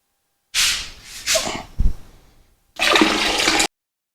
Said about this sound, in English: we're going to dump it into our fermenter